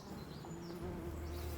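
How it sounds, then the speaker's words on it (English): A steady, faint buzzing like a swarm of bees, heard from a distance across open farmland, continuous and droning with a low hum underneath, no voices present. "A sort of buzzing sound in the distance."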